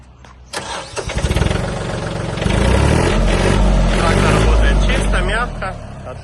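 A Yanmar EF326 mini tractor's diesel engine cranks briefly and catches, then settles into a loud, steady close-range idle with a low throbbing rumble.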